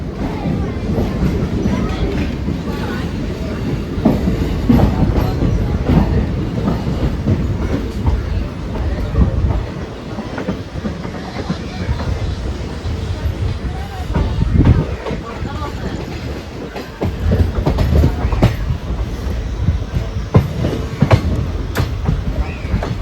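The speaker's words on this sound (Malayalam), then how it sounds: "നമ്മുടെ ട്രെയിനിൻ്റെ 6:10 ആകുമ്പോൾ പാലക്കാട് ജംഗ്ഷനിൽ എടുത്തിരിക്കുക കേട്ടോ" A train departs Palakkad Junction onto the second main line, its wheels rumbling and clacking over the rails loudly and steadily, with a voice talking over it.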